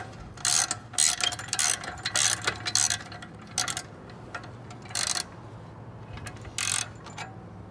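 A ratchet tie-down being cranked tight while loading a motorcycle onto an MX hauler gives bursts of sharp, rapid clicking in short repeated strokes, close and alone, with brief pauses between pulls.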